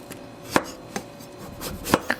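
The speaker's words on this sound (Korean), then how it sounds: "호박의 결을 따라 잘라줬어요." A knife chops through a firm pumpkin several times, sharp irregular thuds on a board close by, with no talking.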